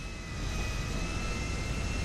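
A jet aircraft engine in the video game GTA roars as a loud, constant broadband rush with a thin steady whine on top, filling the whole moment without speech.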